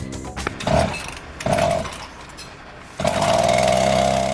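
A chainsaw engine fitted to a scrapheap-built cart runs in loud, rough bursts, revving up and dropping back three times with a rising whine, under a noisy outdoor background.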